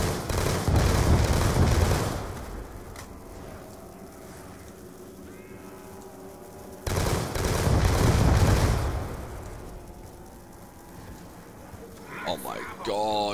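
Three-round burst rifle fire in Black Ops 2, loud clustered volleys in two main bursts, with dense battle noise between and a voice talking over the action.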